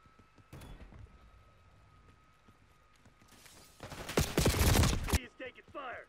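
Call of Duty Black Ops 6 gunfire: scattered shots at first, then a loud, dense burst of automatic fire near the end, with a faint voice in the background.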